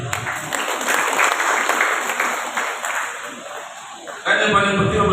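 Audience at a Musrenbang regional planning meeting in OKU Timur applauding, a sustained round of clapping from a seated crowd that swells again at the end, with a voice over a PA.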